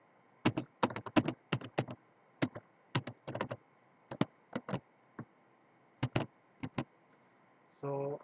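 Password being typed on a computer keyboard during a MySQL installation: irregular bursts of close, crisp key clicks with short pauses between groups, ending in a brief louder rustle.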